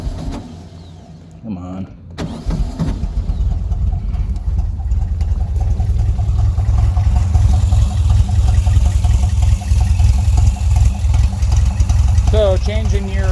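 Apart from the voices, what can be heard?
VW Volksrod engine with Weber IDF carburetors starting and idling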